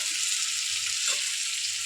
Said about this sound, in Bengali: এখন আপাতত মাংস কষা হচ্ছে